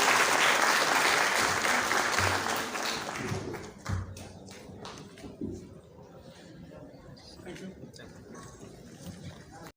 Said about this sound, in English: a big round of applause for all the dignitaries on stage.